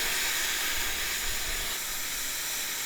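Air hisses steadily out of a Jeep tire through an ARB thread-on deflator, a continuous close, even rush with no talk.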